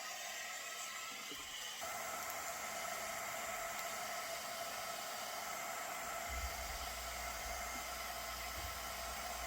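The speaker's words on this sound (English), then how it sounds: "Is my heat gun somewhere here? All right, got it on." A heat gun runs continuously, shrink-wrapping a wooden car air freshener, a steady loud hiss and blowing rush that shifts tone once partway through and carries on unbroken.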